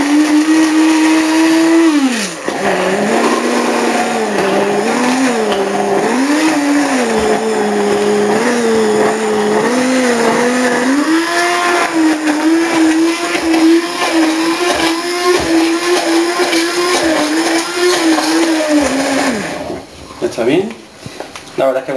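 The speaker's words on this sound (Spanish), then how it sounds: "Y disponemos a batir la mezcla. Lo tenemos que batir muy bien" An electric mixer beats an aloe vera soap mixture scented with cedar essence, its loud, close motor whining steadily with shifting pitch as it works, then cutting off near the end.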